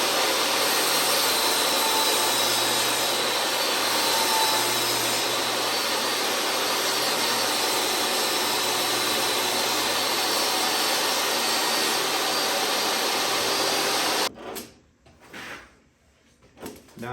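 Table saw cutting a wood strip slightly longer than the fence, a loud continuous broadband roar that holds steady for about fourteen seconds, then cuts off abruptly into quieter handling noise.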